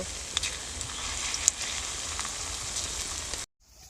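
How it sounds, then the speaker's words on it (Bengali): Egg and potato fritters fry in hot oil, a dense steady sizzle and crackle with scattered pops that cuts off abruptly near the end, leaving near silence. "অল্প অল্প করে বড়ার সাইজে আমি ভেজে নিব একটু পোকোড়া পোকোড়া স্টাইলেই করতে হবে"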